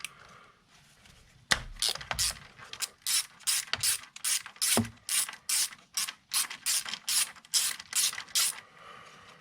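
A ratchet wrench backs out a 10mm bolt on the 3.5L engine of a 2003 Nissan Altima during a cam sensor replacement, giving rapid rhythmic clicking bursts in repeated strokes, close and clear with no speech.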